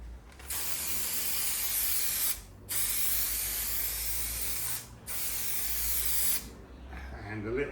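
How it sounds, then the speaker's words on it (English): Aerosol trim adhesive sprayed onto the masked body of a 1969 Triumph Vitesse during restoration: three long, close hissing bursts separated by brief pauses, ending with a short quiet tail. "to spray the trim adhesive on so I don't get it everywhere"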